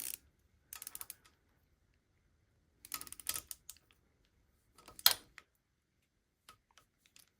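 A torque wrench tightening the cylinder head bolts of a 2019 Kawasaki KX450 during a top end rebuild, heard as short bursts of quick mechanical ratcheting clicks separated by silent pauses, close and fairly quiet.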